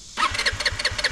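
A motorcycle engine that has broken down is cranked and coughs, sputtering in short rhythmic bursts about every fifth of a second close by, without catching to a steady idle.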